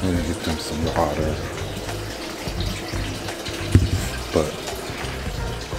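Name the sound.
water running from a tap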